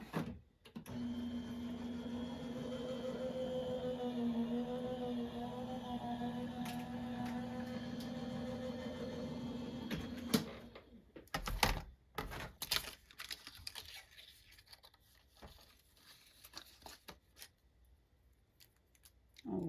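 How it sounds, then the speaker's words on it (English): A die cutting machine draws a black paper card through its rollers with a steady mechanical hum for about ten seconds, then a few sharp clicks and rustles as the card comes out, quiet and close with no talk. "I'll run that through through my die cut."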